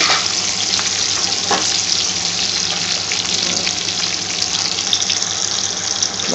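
Chopped garlic fries in boiling oil in a pan, a loud, continuous sizzle and crackle with no pauses and no voices.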